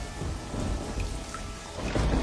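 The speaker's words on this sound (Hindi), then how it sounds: "बारिश इतनी तेज थी कि बिरजू के कच्चे घर की छत उसे सहन नहीं कर पाई" Heavy rain pours down with rolling thunder in an animated story about a storm flooding a mud house, a dense continuous roar with low rumbling throughout, loud and close, with no voices.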